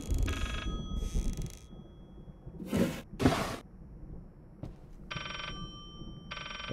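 Old telephone in the horror game Layers of Fear rings in repeated bursts, bright bell trills alternating with short pauses amid creaking ambience and a couple of whooshing thuds.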